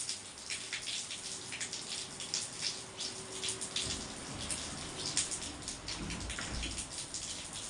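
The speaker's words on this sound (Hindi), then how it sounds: "ये बिन मौसम की बरसात मुझे बिल्कुल नहीं पसंद।" Fake rain of sprayed water falling steadily around a baby sparrow, a continuous hissing patter with splashing drops throughout, some heavier low splashes partway through, and no talking.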